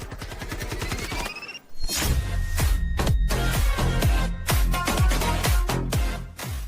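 Gunfire in the video game Delta Force at an administration building: a rapid series of sharp, punchy shots with booming low ends, fired in quick bursts at close range, with brief gaps between volleys.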